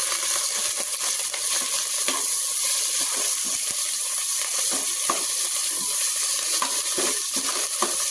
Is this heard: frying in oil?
yes